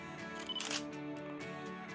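A single-lens reflex camera fires its shutter once for a slow-exposure shot, a brief mechanical clack in a quiet indoor setting with steady low hum around it.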